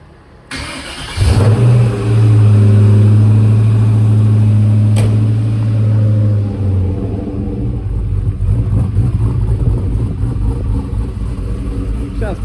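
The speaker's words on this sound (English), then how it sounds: "got the exhaust on the Monte Carlo. Let's give it a fire, check for leaks, let it run for a bit." A Chevrolet Monte Carlo engine with a newly fitted exhaust fires up and settles into a loud, steady low rumble at idle, close by, with faint talk underneath.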